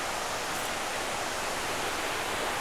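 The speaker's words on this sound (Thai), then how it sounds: "นี่ น้ำตกตาดใหญ่ ดูครับ สวยงามครับสวยงามเป็นชั้นๆครับ" Tad Yai, a tiered waterfall in Nam Nao, Phetchabun, sends out a steady rushing roar of falling water, constant and fairly close, with no talking.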